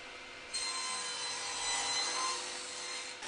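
A hand saw cuts a test tenon in a piece of wood, making a close, steady rasping stroke that starts after a brief pause and carries on without break.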